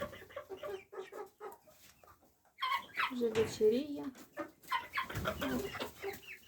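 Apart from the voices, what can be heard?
chickens clucking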